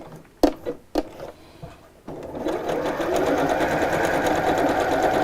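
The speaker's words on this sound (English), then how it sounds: "And then you can sew." Home sewing machine stitching steadily and fairly loud, starting after a couple of sharp knocks and a short lull, then running continuously to the end.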